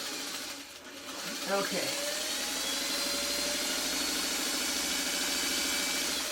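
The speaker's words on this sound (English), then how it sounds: "now I'm just going to top stitch them down in place so it stays at that perfect little 1/2 inch" A sewing machine top-stitches a hanging sleeve onto a quilt in a steady, continuous hum, with a brief spoken word near the start.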